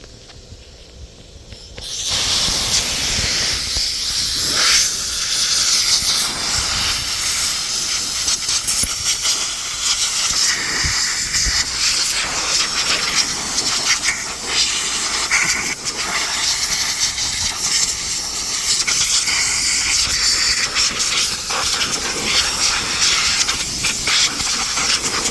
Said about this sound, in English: I'm going to try and blow some of this crap out of here and clean it up a little bit with some compressed air.